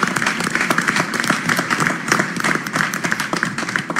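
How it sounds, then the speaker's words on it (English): Audience applause at a board meeting: a dense, steady wash of many hands clapping at close range, sustained evenly for the whole stretch without a pause. "but we'll applaud that."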